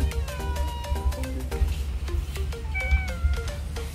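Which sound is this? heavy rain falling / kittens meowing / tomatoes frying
kittens meowing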